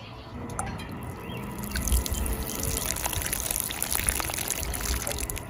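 Water spraying and dripping onto garden plants and soil during watering, a continuous close patter with scattered drips.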